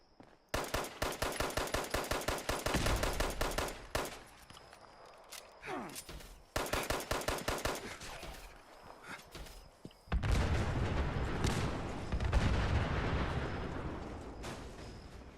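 Rapid bursts of automatic gunfire and heavy explosions erupt in Fallout 76 gameplay, loud repeated volleys broken by short pauses, then a long rumbling blast and crackling debris.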